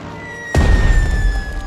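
A bomber attack lands in the strategy game Strategic Mind: Spirit of Liberty as a single sudden loud boom, followed by a rumbling low tail over a steady background drone.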